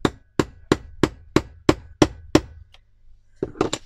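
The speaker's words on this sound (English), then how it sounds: "Should have warned you that I was going to start whacking with a hammer." A hammer strikes an eyelet punch into thick chipboard in eight steady, evenly spaced sharp whacks, then a pause and a quick cluster of three more hits, close and loud with no talk.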